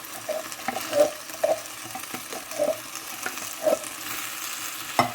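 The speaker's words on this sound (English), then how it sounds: "there's not much liquid in the saucepan. That's why it's making that noise" Chilli sauce with red kidney beans sizzling in a saucepan on a gas hob with little liquid left, a soft steady fry punctuated by rhythmic scrapes and clinks of a spoon stirring close by.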